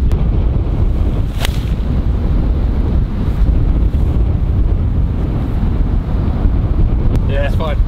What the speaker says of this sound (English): I hope the audio ain't too bad for you, because it is very, very windy today.